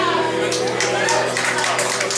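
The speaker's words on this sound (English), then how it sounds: "Yes, the church applause." A church audience claps in steady, dense applause that fills the room, with a few voices mixed in.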